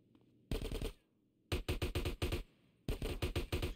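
Gunfire in the video game GTA San Andreas: loud rapid automatic bursts, one short burst then two longer strings of shots separated by brief gaps, close and dominant with no talk over it.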